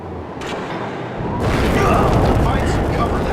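A Star Trek game blast aimed at a door lock gives a sudden loud boom that swells into a sustained roaring rumble, close and heavy, with a brief faint sound just before it.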